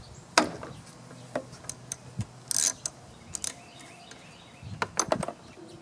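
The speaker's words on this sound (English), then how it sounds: "let's take the spark plug out, take a look down in the cylinder" A wrench works a spark plug out of a small engine: scattered metallic clicks, ratcheting snaps and brief scraping knocks, close up and irregular, with quiet gaps between.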